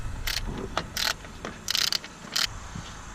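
A ratchet spins off 10mm fan shroud bolts on a 2006-2011 Honda Civic Si with a K20Z3 engine, making four short, sharp bursts of clicking close by over a low background hum.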